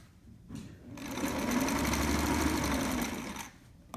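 A sewing machine stitches a trapper hat in one steady, fairly loud run lasting a couple of seconds, starting up and then stopping, with no one talking over it.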